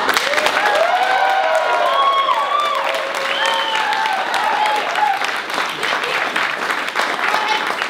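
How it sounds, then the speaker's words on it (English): A live comedy crowd applauds loudly at close range with cheering and whoops. Several voices ring out over the continuous clapping for the whole stretch. "Can we give him a real loud, like, round of applause and just get him, like, pumped up"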